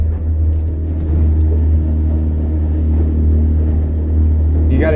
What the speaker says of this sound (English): So we're on the kicker motor now.